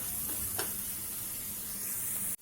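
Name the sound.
masala frying in a pan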